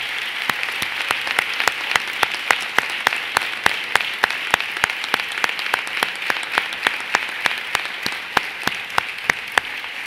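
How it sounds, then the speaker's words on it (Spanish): A hall audience at a Holy Saturday of Passion proclamation by a sacramental brotherhood applauds after the speech, dense sustained clapping with a few sharper individual claps standing out near the front. "Yo incluso pediría otro aplauso"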